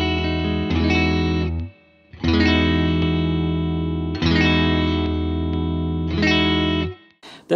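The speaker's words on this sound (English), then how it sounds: "The first pedal I'm going to engage here is the compressor. I just have this always on." Bass tone for a math rock setup sent through an always-on compressor pedal, heard as four loud, evenly sustained low chords with short gaps, a brief pluck at the end, and no talking.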